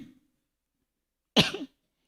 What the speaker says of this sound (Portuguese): Escutei alguém tossindo com toda delicadeza agora.